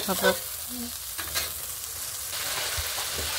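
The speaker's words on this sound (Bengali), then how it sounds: "মশলাটা এখন কষিয়ে নেব।" Ground cumin, coriander, turmeric, green chilli and salt fry in a pan, giving a soft, steady sizzle with a few stirring scrapes.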